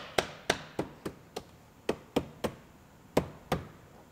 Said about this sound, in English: And push our sill plate down in the floor.